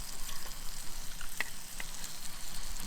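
Steaks sizzle in a pan on a camping gas stove at an outdoor wild camp, a steady close hiss and crackle with a few sharp spits, no talk.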